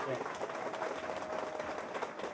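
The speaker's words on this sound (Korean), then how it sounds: "다시 한번 큰 박수 부탁드립니다." Applause from a crowd at a Korean residents' rally in Gangdong-gu, steady dense clapping filling the whole stretch with voices mixed in underneath.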